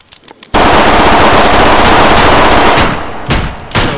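A dense burst of rapid gunfire in the virtual reality shooting game H3VR, loud and close, packed into about three seconds and then tapering off, with a few scattered clicks before and after.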